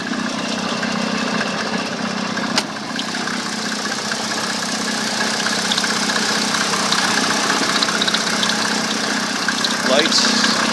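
A 1986 Mercedes 300 SDL turbo diesel engine idles close by with a steady, loud, even clattering hum, broken by one short sharp knock early on.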